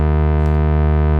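Steady sustained tone from VCO3 oscillator of a Behringer 2600 synthesizer, rich stacked harmonics holding one pitch, loud and continuous alone.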